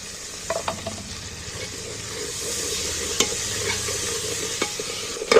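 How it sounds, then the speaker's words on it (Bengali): A ground paste of coriander, cumin and green chilli is stir-fried for a chicken curry, a soft steady sizzle with occasional spoon scrapes and clicks that grows a little louder toward the end. "মশলাগুলোকে ভালো করে কষিয়ে নিচ্ছি"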